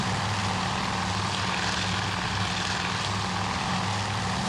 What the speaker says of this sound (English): Let's get a shot of the planes going over.